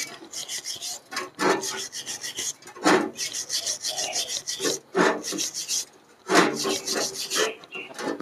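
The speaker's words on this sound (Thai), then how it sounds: "ขูดให้ดูนะครับ" A hand tool scrapes over a flux-core weld bead on a thick round steel pipe, with repeated rough rasping strokes in an uneven rhythm, close and fairly loud.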